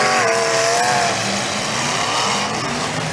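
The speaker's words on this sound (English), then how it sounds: "Got a great sounding motor in that 100 car of Peterson" A demolition derby car's engine roars loud and close in the 100 car, a steady heavy motor drone with rising revving harmonics early on, holding strong throughout.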